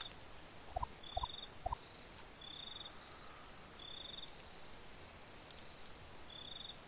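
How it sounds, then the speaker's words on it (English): Crickets chirp steadily at night in a thin, continuous high trill, faint and distant with no voices. "Can everybody hear the crickets on the stream?"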